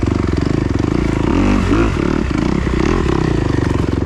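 A 2021 Kawasaki KX250X dirt bike engine revs and burbles steadily while riding singletrack over rocky hillside ledges, loud and close throughout with throttle surges and clatter.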